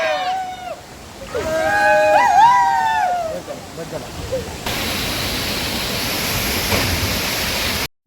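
A rain-swollen waterfall throws up water spray. Its steady, loud roar of rushing water fills the second half, after an opening of whistling, chirping voices and outdoor sounds.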